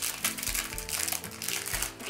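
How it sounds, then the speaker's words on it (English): Cellophane crinkles and crackles up close in quick, rustling bursts, with a soft rhythmic thump underneath. "I'm getting my kit out of this cellophane"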